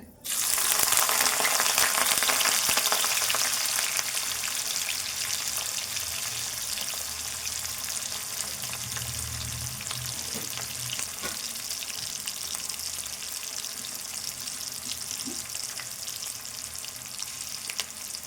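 Onions frying in oil in a pan for a masala egg curry, a dense hissing sizzle that starts abruptly and holds strong and continuous, with a few faint clicks and no voices.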